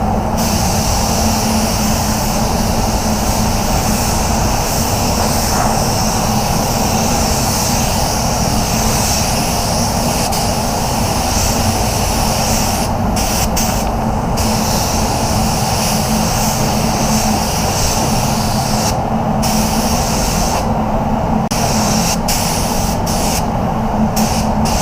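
Spray gun hissing continuously as paint is sprayed onto new parts, a steady loud broadband rush with brief breaks near the end.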